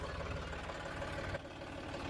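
A John Deere 5310 tractor engine idles with a steady low rumble and faint knocking pulse, close by and continuous, briefly dipping once before settling back, with no voices.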